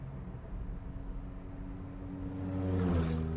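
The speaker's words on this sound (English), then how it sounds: "That was the truck." A truck passes a Honda City hatchback RS e:HEV running quietly on battery power on a mountain road; a low cabin rumble swells gradually into a broader whoosh near the end, heard from inside the car.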